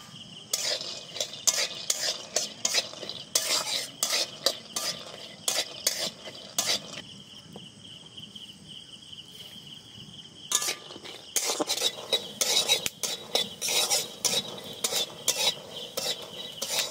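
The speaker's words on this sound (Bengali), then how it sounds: "এবার কয়েকটা বাদাম আমি তেল দিয়ে ভেজে নেব।" Peanuts fry in oil in a pan, crackling in bursts with stirring clatter that stops for a few seconds midway, where a thin steady whine remains, then resumes.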